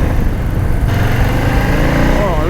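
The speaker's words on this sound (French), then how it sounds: "Regardez ce gros grondement là." Harley-Davidson Flow Rider S 2024 cruiser motorcycle engine rumbling loudly nearby, a deep throbbing low growl that swells slightly as it revs, heard alone without talk.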